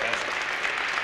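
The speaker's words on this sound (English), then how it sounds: "round of applause" An audience at a live memory challenge event gives a steady, dense round of applause that fills the whole short moment without pause.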